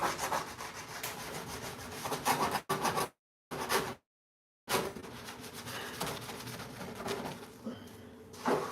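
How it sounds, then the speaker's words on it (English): Steady scrubbing on a very dirty stove, a continuous raspy rubbing that runs for several seconds, broken by two short dead gaps before picking up again, close and moderately loud. "I've literally been sitting here scrubbing this freaking stove for probably the last 20 minutes."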